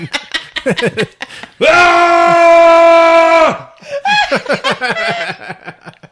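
A person imitates a toothy horror-movie scream with a sustained, loud, harsh shriek lasting about two seconds, with laughter and chuckling before and after it.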